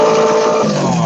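A car exhaust revs with a raspy, rumbling tone, recorded loud and close to the microphone, with the pitch dropping partway through as the revs fall, heard alone without talk.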